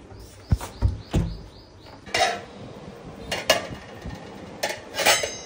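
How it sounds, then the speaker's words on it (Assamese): Bronze bell-metal dishes and cutlery clatter and clink in a series of bright, ringing knocks, close by, with faint bird chirps in the background and no talk. "মানে আমাৰ কাহৰ বাচন চাচন ইয়াতে থাকে"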